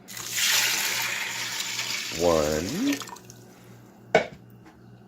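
Tap water running steadily into a pot for split pea soup, a sustained hiss with a rising gurgle as the level climbs, then a sharp clink near the end; a voice is briefly heard.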